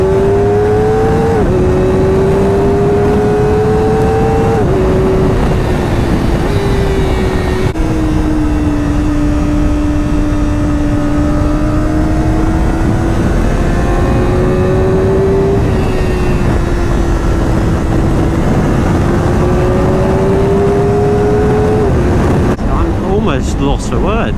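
A Kawasaki Ninja ZX-4RR motorcycle rides along twisty roads, its engine loud and close with a high, sustained whine that rises and falls as the rider shifts and rolls through bends, over constant wind rush.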